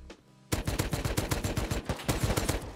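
Rapid automatic gunfire in the survival video game Rust, a loud burst of closely spaced shots that starts suddenly after a quiet moment and keeps a fast, steady rhythm.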